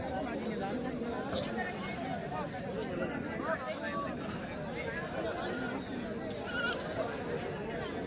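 Goats bleat now and then amid a dense, steady hubbub of crowd chatter at a weekly village goat and sheep market in Chalisgaon, Maharashtra, with the animals close by.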